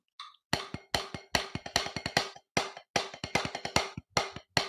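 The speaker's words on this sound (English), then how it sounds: "We're going to make it a paradiddle." A paradiddle pattern played on a drum kit, sharp snare-like strokes in quick alternating groups with short pauses between phrases, close and crisp, no talking.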